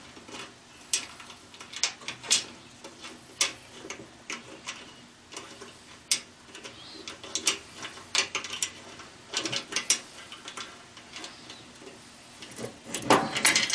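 Screws go into a Craftsman mower deck with a run of quick, close metallic ratcheting clicks in irregular bursts, some sharper than others, over a faint background hiss.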